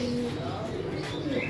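Slate-grey pigeons for sale in a Lahore loft coo softly in a brief low murmur, a couple of overlapping calls fairly close by, with no speech.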